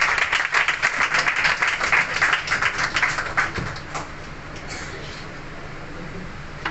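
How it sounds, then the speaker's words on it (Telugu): A church congregation claps hands together in a dense, fairly loud burst of applause that thins out after about four seconds, leaving a quieter murmur of room noise. "అందరం చప్పట్లు కొట్టి దేవునికి దాసుని మనం ఆనందపడుతున్నాం."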